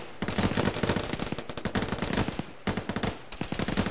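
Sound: gunfire suppressing a bunker in a video game (ShackTac)

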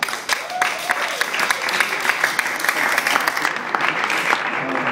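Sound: audience applause

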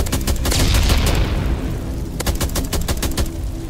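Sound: gunfire in a SpongeBob video game

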